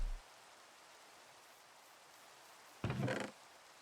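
Steady, soft hiss of rain falling in Minecraft, faint and continuous, broken near the end by a brief louder splashy burst.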